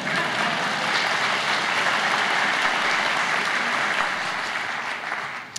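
A large audience applauds at a Caltech alumni seminar day welcome. The clapping is dense and steady for several seconds, then tapers off near the end.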